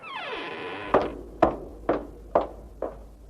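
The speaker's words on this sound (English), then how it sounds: "The door opened again." A door creaks open with a drawn-out, falling groan in a quiet room, followed by five or six evenly spaced, solid thudding steps that knock against the floor.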